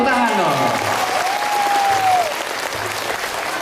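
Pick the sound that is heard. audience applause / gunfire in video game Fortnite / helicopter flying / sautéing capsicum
audience applause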